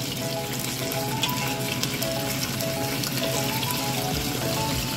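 Chicken wings frying in hot oil, a steady close crackling sizzle with small pops that holds evenly throughout, no speech.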